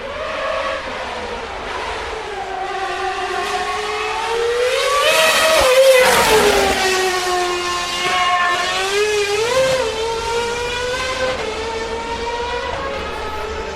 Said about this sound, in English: That was Buemi in the Red Bull RB7.